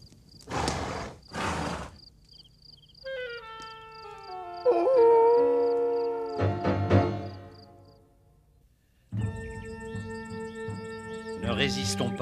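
Coyotes howl in a cartoon desert, giving long wavering tonal cries that rise and bend in pitch, mixed with other scattered sounds and brief bursts of noise.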